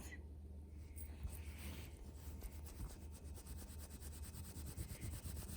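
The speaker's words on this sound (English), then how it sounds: "I'm just going to use my little polishing cloth." Polishing cloth rubbing a tarnished silver jewelry piece up close, a soft, continuous scratchy rubbing in quick back-and-forth strokes, faint and steady with no talk.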